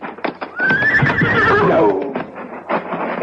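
In a 1970s radio drama, a horse gives a loud, close whinny that rises and falls over about a second and a half, with soft hoof clops before and after.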